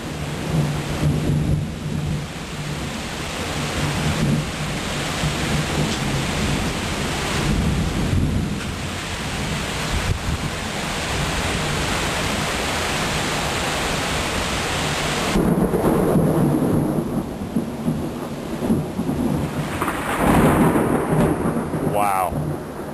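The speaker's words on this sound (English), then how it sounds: "I think some thunder literally just went off almost next to me." Thunderstorm seen from a porch: heavy rain pours steadily and loudly throughout, with close, powerful thunder rumbling through the first half before the downpour carries on alone.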